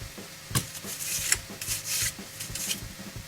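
Sandpaper rubs a small plastic part from a MiniArt 1:35 scale village diorama kit, in short, quiet, uneven scraping strokes close by.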